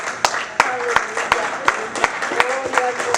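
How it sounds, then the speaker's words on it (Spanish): A church congregation claps in praise to the Lord, sharp separate claps landing in a loose steady rhythm, with a voice speaking faintly underneath. "una alabanza de aplausos al Señor"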